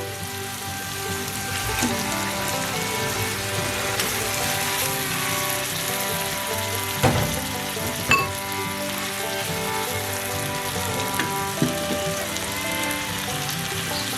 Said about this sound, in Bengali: এখন আমি চিকেনটাকে দিয়ে দেবো।